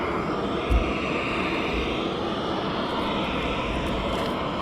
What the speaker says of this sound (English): you can hear behind me the APU has just kicked in on one of the aircraft